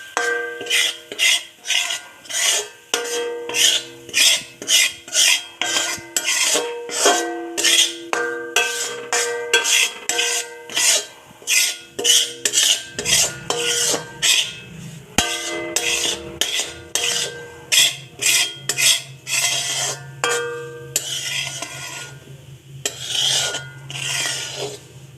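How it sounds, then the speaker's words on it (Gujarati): Flour for mohanthal being roasted over a low flame, stirred in a pan with steady, rhythmic scraping strokes, close up and fairly loud, with no voices. "હવે આને લોટને શેકીશું"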